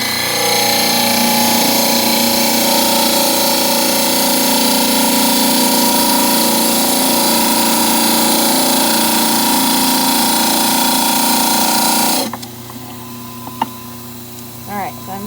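A dental model trimmer grinds a plaster model with a loud, steady whirring drone and rough grinding texture for about twelve seconds, then stops abruptly, leaving quiet room sound and a small knock.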